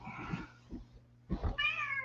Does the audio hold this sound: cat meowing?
yes